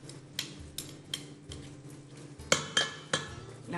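A spoon clinks against dishes while stirring a vegetable meatball mixture of egg, flour and quinoa, with several light taps and scrapes, the sharpest clinks coming in a quick cluster near the end, close and fairly quiet.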